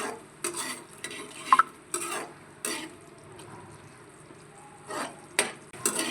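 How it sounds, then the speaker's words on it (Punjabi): Tomato paste is stirred in a pan with a spoon and cooked, giving soft sizzling under repeated scraping strokes and a few light metallic clinks, close and fairly quiet. "ਜਿਹੜਾ ਆਪਾਂ ਟਮਾਟਰ ਦਾ ਪੇਸਟ ਪਾਇਆ ਉਹਨੂੰ ਆਪਾਂ ਥੋੜੀ ਦੇਰ ਪਕਾਵਾਂਗੇ"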